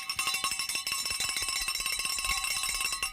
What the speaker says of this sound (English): I'm trying to ring the bell as effective as Dave does.